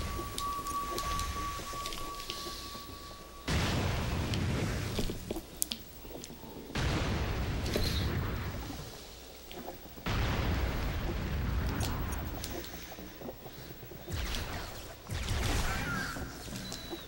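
Grenade blasts in The Conduit video game, several loud, heavy booms that each roll on for seconds before the next, close and dominant with no talk over them.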